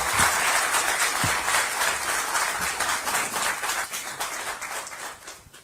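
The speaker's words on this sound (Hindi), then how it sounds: "तालियां जोरदार।" Loud, dense applause from a large crowd, sustained throughout and slowly tapering toward the end.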